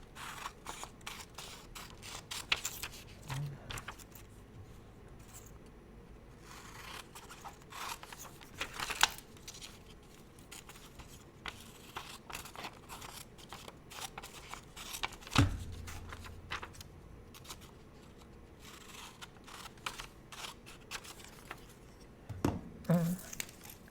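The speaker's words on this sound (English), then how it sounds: "Got a pair of scissors here." Scissors cut out a traced paper shape at close range: crisp snips and paper crinkles come in irregular bursts, separated by quieter pauses.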